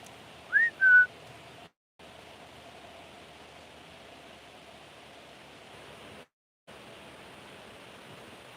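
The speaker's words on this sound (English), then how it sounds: "do you guys hear that whistle back?" Outdoors on a freezing night, a person gives two quick whistle notes, the first rising and the second held flat, then only a steady broadband hiss continues, briefly cut to silence twice.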